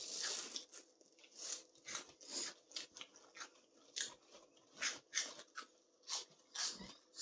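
Crunchy cheese balls chewed close to the mic during a food challenge, giving a steady run of loud, sharp crunches and bites about twice a second, with no talking.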